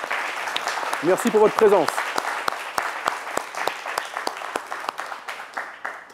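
Audience in a TV studio breaks into sustained applause, steady clapping that swells and then thins to scattered claps, with a presenter's voice speaking over the start.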